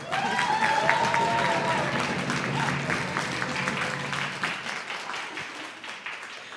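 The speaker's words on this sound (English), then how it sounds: "Huge round of applause to them as well." Audience applause at an Indigenous self-determination symposium, sustained dense clapping from a large room that gradually thins and fades toward the end.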